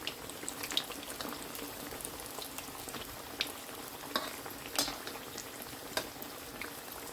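Potato and onion pakoras frying in a pan of hot oil, a steady dense bubbling sizzle with occasional louder pops and crackles, close and even throughout with no talking.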